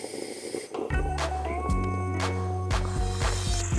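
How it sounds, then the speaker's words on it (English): A stovetop moka pot sputters as the coffee finishes, with rough bursts of hissing air and bubbles spitting out at irregular intervals over a steady background hum. "Because now that's the sound of air and bubbles just coming out."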